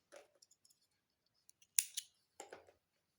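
Scissors snipping crochet yarn, heard as a few short, crisp cuts spaced apart, close and clear, with no talking.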